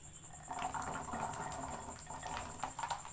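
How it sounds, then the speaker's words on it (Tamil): Peeled garlic goes into hot sesame oil in a pan, giving a faint, soft sizzle with light bubbling crackles that keep going steadily. "எண்ணெய் லேசாக காயும் போதே நம்ம உரித்து வச்சுருக்கிற பூண்டை இதில் சேர்த்துக்கலாம்"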